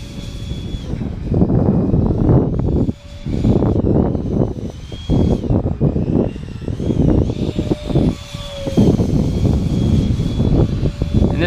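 FT Viggen RC electric ducted fan jet in flight at about half throttle, a steady loud whooshing whine that swells and dips as it passes, with faint high tonal fan whistle throughout.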